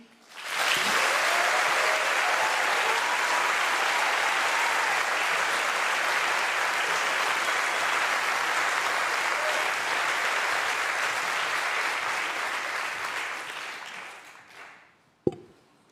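Sustained audience applause fills a graduation ceremony for an INSEAD MBA class, loud and steady for about fourteen seconds before tapering off and ending with a single sharp knock.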